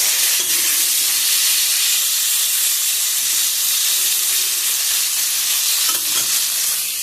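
Potato and pointed gourd frying in hot oil, a steady loud hiss and sizzle throughout with faint stirring scrapes, no voices.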